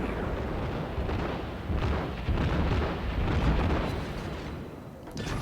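Torpedo hits from the IJN Tenryu in World of Warships explode against an enemy ship, producing deep, rolling booms that merge into a continuous loud rumble with a few sharper blasts.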